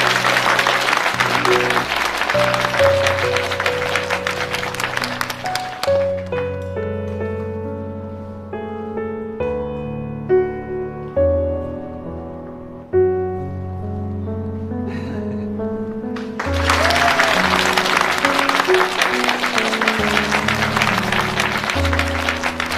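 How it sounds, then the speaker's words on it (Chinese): Guests applaud the bride at a wedding: a thick, sustained burst of clapping at the start gives way to music in the middle, and then a second long round of applause rises again near the end. "我们来给新娘鼓鼓掌"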